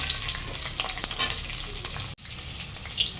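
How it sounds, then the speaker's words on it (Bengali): Capsicum frying lightly in oil in a home kitchen pan, a steady close sizzle with occasional stirring scrapes and a brief dropout near the end, no voices. "ক্যাপসিকামটা ভেজে নিয়েছি হালকা করে"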